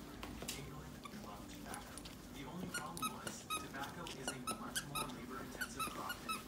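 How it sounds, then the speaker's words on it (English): A German Shepherd plays with a squeaky dog toy, giving repeated short squeaks in an irregular rhythm, some close and sharp. A quiet voice speaks faintly underneath. "I knew he would like the squeaky one."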